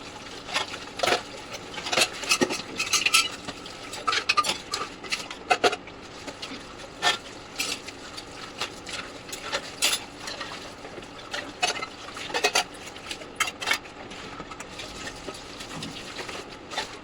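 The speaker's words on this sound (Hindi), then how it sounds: "अब है बर्तनों की बारी। सारे बर्तन मांज के" Dishes and utensils are scrubbed and washed by hand in a household kitchen, with scattered light clinks of metal pots and cutlery and splashing water, steady and moderately close, with no talking.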